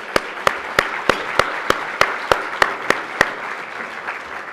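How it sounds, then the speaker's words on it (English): An audience at a public policy event applauds in a steady round, with about a dozen distinct, evenly spaced loud claps standing out over a softer bed of clapping. "So let's give a round of applause for them."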